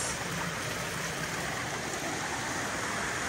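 Shannon Falls in Squamish, British Columbia, gives off a constant broadband rush of falling water. The steady hiss heard up close is fairly soft and unbroken.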